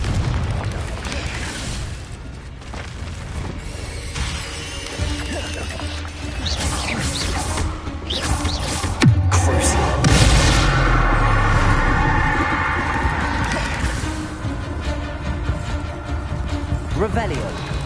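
Confringo blasting spells in Hogwarts Legacy go off as booming explosions and crashes over a dense, loud game soundscape, with a voice speaking throughout.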